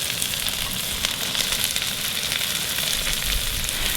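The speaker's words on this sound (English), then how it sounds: "Give this a really good stir and just let this cook for about 15 seconds to wilt the herbs." Sardine stir fry with fresh herbs sizzling steadily in a hot pan, a loud continuous crackle and hiss with occasional stirring clatter, no talking.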